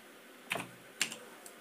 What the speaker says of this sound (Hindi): तो मैं कैप्चा एंटर कर देता हूँ।